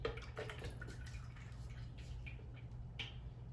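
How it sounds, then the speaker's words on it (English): Maraschino cherry juice and cherries tipped from a jar into a container, giving splashy liquid pouring with drips and a few small plops, moderately close and quiet. "You can tilt it and dump the juice and the cherries in there. Might splash a little bit"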